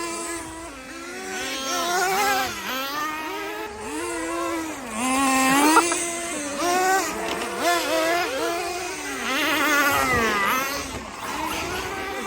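Nitro RC cars race on their last lap, their small engines whining continuously and close by, the pitch constantly rising and falling as they speed up and brake, with several engine tones overlapping.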